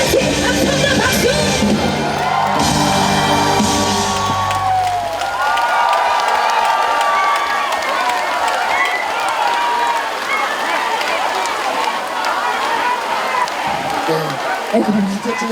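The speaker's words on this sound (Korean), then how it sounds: "자, 다 같이 함성과 박수!" Outdoor festival crowd at a rain-soaked concert in Gurye roaring with cheers, yells and applause, a dense sustained wash of voices close and loud throughout.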